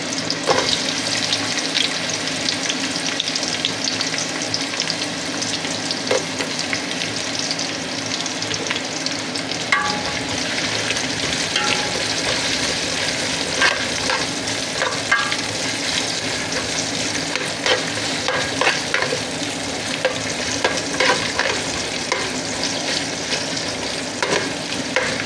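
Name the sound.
onions frying in a pan for sinigang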